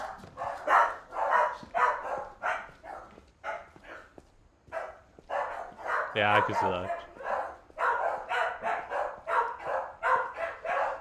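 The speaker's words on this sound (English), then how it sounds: "Does anyone else hear those dogs?" Several dogs bark repeatedly in quick bursts during play of the game What Remains of Edith Finch, fairly close and loud, with a person speaking briefly over them.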